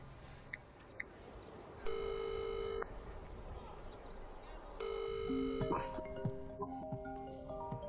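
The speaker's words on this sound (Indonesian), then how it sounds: "Telepon." A telephone rings in two repeated electronic bursts, fairly quiet, followed by beeping tones and layered over background music and dialogue.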